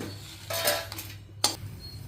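Roasted chillies being taken out of a pan, a few quick metallic scrapes and clinks of a spoon against the pan over a faint background hum.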